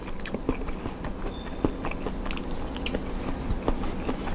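Close, wet biting and chewing of Thai pork sausage (moo yor) from Ubon, with soft irregular crunchy mastication sounds repeating steadily and no talk.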